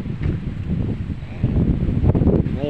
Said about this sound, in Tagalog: napakalakas ang hangin, gawa ng habagat.